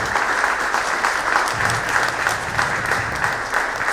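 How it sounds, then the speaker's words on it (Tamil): An audience at a devotional event applauds, steady clapping from a crowd held at an even level for several seconds. "ஒரு பெரிய கைத்தட்டல் கொடுங்க."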